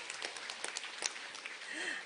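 A seminar audience at a sales lecture gives soft, steady applause that sounds faint and distant, with scattered individual claps in the wash of noise.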